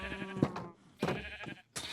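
Sheep bleating in Minecraft: a few short, wavering synthetic bleats from a nearby sheep, spaced about half a second apart, with no talking.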